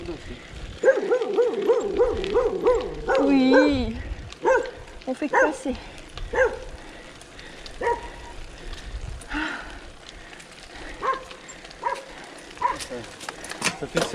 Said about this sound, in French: Ça va, c'est un chien.